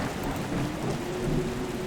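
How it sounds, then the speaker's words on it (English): Steady rain in the video game Cattails: Wildwood Story patters softly throughout, a continuous wash of drops with a low rumble underneath and no voices. "Oh, it's raining. You can hear it."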